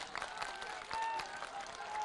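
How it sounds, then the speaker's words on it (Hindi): A TV studio audience at a political election debate show applauds to welcome a guest, a brief burst of crowd clapping with faint voices mixed in. "तालियों के साथ उनका स्वागत कीजिए"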